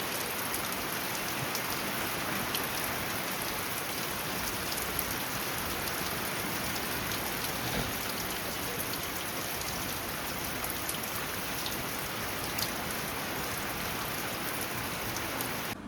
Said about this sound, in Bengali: সেই সকাল থেকে বৃষ্টি নেমেছে